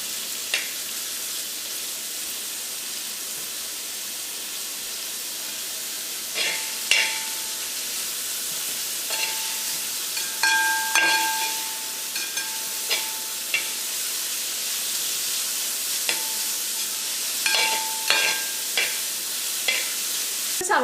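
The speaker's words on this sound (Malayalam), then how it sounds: "ഇനി നമുക്ക് ചൂടായ വെളിച്ചെണ്ണയിലേക്ക് ഏറ്റവും ആദ്യം തന്നെ നമുക്ക് സവോളയും ഇഞ്ചിയും വെളുത്തുള്ളിയും പച്ചമുളകും വേപ്പിൻ്റെ ഇല ഇട്ടിട്ടൊന്ന് വഴറ്റിയെടുക്കുക" Onion, ginger, garlic, green chilli and curry leaves sautéing in hot coconut oil for a Kerala duck curry, a steady close sizzle with repeated spatula scrapes and taps against the pan.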